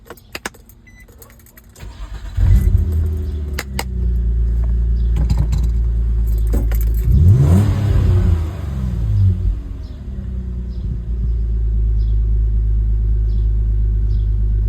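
A 2003 Nissan Maxima SE with the 3.5 engine, just back from a fuel pump repair, cranks briefly after faint key clicks, then fires and settles into a loud, steady idle with one revving surge before evening out.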